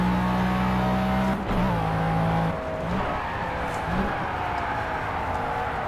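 A McLaren F1 race car engine at Le Mans in the Project CARS racing game, driven with a Thrustmaster shifter, drones loud and close, dipping and rising through gear changes into the last chicane with tire scrubbing, no talk.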